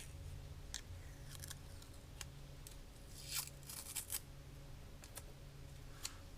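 XPEL protective film is unwrapped for a Tesla door sill protector, with quiet crinkling, crisp plastic rustles and a few sharp ticks close by over a low hum.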